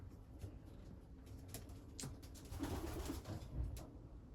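Racing pigeons cooing in a loft, soft repeated low coos with faint wing and shuffling noises, quiet and close, no talking.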